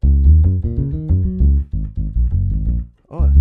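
A subby bass preset in Logic Pro X plays a run of deep, sustained bass notes that drop out briefly near the end, then the line picks up again.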